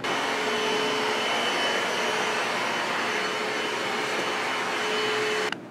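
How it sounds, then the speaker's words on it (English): A vacuum cleaner runs on a floor strewn with crumbs, giving a loud, steady broadband roar with a faint whine that holds evenly before cutting off abruptly at the end. "we gotta vacuum my floor"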